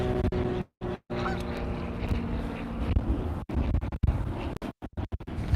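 Gusty wind buffets the microphone outdoors near geese, a loud broadband rumble that drops out in several brief gaps, with goose honks and bird calls mixed in.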